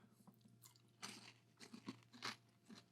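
Close crunching and chewing of Cinnamon Toast Crunch popcorn with a Cinnadust glaze. Several crisp bites and chews come in irregular bursts, with no talking.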